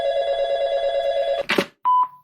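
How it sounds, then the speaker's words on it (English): A radio station's telephone rings close by in two bursts, a steady electronic trill followed by a brief pause and a short second ring, with a rustling handling noise between them. "The station phone?"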